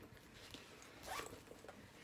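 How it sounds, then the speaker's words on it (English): A single purse zipper is pulled quickly, a short raspy zip over quiet background, close by. "So this over here is a zipper pocket."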